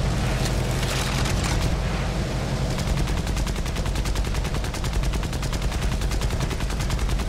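Sustained machine gun fire from an aircraft or vehicle gun in War Thunder, a dense rapid rattle of shots running continuously and loudly over engine rumble with no gaps.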